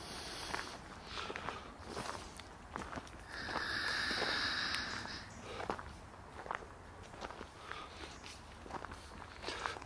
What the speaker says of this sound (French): Donc les bruits de pas, c'est nous.